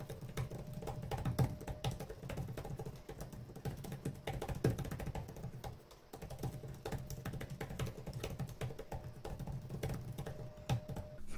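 Fast typing on a Samsung Galaxy Tab S8 Ultra keyboard cover gives a continuous patter of close, light key clicks with a brief pause midway, heard alone without talk.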